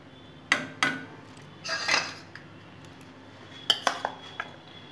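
A metal spoon stirs boiled rice in a cooking pot for mango payesh, giving several sharp clinks and scrapes against the pot in an uneven rhythm, close and fairly loud with no talking.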